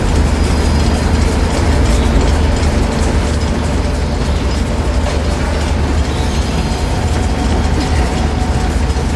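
A train engine runs in the Uncharted Lost Legacy video game, a loud continuous mechanical rumble and rattle of rolling rail cars with no pauses.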